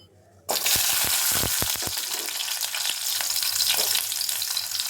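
Ingredients for garlic chutney roasting in a hot pan, a steady loud sizzle starting abruptly with a few sharp stirring scrapes and clinks near the start, continuous and close with no talking.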